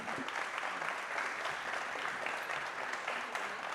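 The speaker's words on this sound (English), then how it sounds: "A greater round of applause, everybody." Audience at a tech industry talk session giving a steady round of applause, a dense even patter of many hands heard at moderate distance throughout.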